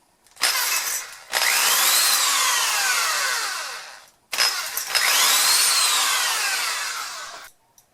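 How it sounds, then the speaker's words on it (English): A power drill bores a clearance hole through the slots of a galvanized metal fastener in two bursts, each a loud, whining spin-up that runs for a few seconds and winds down, with a short pause between. "Drill a clearance hole through your two slots."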